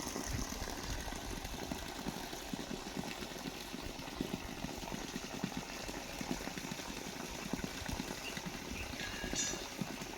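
A farm water pump motor runs steadily outdoors, a faint, continuous low mechanical hum and churn with no pauses.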